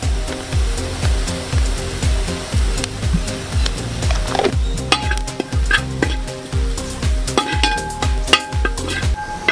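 Meat masala spice powder fries in a pan for kappa biriyani while a spoon stirs and scrapes it in a steady, repeated rhythm, about twice per second, under a soft continuous sizzle, close and fairly loud.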